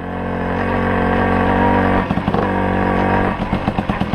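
A Tomos 50 moped engine with a carburettor needing adjustment holds a loud steady rev, then drops into an uneven, pulsing idle before climbing again, running close by with no talk.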